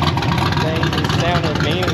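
A turbocharged Mitsubishi Evo's engine runs steadily at a car show, a dense, throaty rumble that holds even throughout, with people talking over it.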